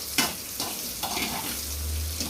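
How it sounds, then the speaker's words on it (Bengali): Food sizzles and crackles in hot mustard oil in a pan, a bright continuous frying hiss with a few stirring scrapes and a low hum beneath, close and alone without speech. "সরষের তেল দিয়ে এটা একদম ভাজা ভাজা করতেছি"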